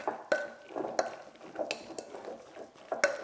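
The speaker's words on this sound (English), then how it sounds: "Just give that a good mix around in the bowl." Spanakopita egg filling being mixed in a bowl: a utensil scrapes and clinks against the bowl in quick, uneven strokes, close and fairly quiet, with no talking.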